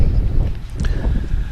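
Wind gusts blow across an open-air tournament field, a continuous low buffeting rumble against the microphone with faint distant sounds mixed in.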